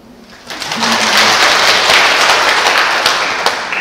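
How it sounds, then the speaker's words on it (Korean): Audience clapping at a Catholic catechism lecture, starting abruptly after a brief murmur and holding as a steady, full applause that stays close and loud for several seconds. "오, 박수."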